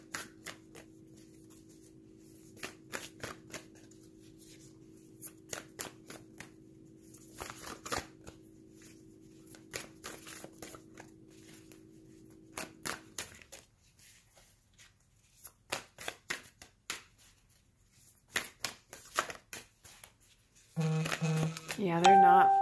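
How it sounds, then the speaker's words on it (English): Repeated crisp riffling bursts of a deck of cards being shuffled, coming in short irregular runs over a quiet hum, with a brief tonal sound at the end. "3 more shuffles and I'll pull one from the bottom."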